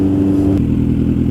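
A 2008 Suzuki Bandit 1250S motorcycle on a test ride, its engine a loud, close, rumbling drone with a brief shift in tone partway through.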